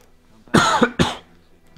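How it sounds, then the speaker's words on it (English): Two hard coughs about half a second apart, close and loud, followed by a faint trailing breath; no talking. "Apologies for the coughs"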